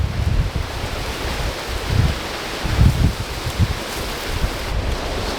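Strong desert wind blowing outside a hotel beside a golf course, a continuous loud rushing roar with gusts swelling and buffeting the microphone throughout, no voices.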